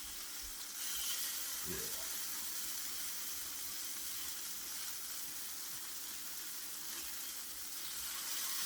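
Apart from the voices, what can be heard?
sausage frying in a pan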